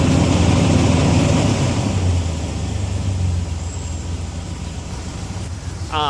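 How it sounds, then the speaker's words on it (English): A pickup truck nicknamed Brutus, just repaired after a no-start fault, runs steadily with a loud, close, continuous low engine rumble that eases slightly after two seconds and holds an even idle with no talk over it. "Truck starts. It stays running."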